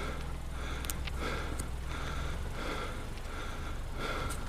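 Heavy panting from a character in a horror animation: repeated loud, breathy gasps in an uneven rhythm, close and alone over a low background rumble.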